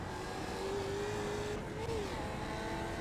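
A Skip Barber Mustang race car engine in the iRacing simulator at Sebring Club, a steady drone at moderate level with a sustained tone that rises slightly near the end, no talking.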